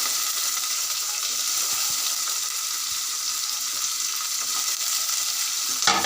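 Shrimp hit hot oil with crushed garlic, making a soft, even sizzle throughout and a small clatter at the very end.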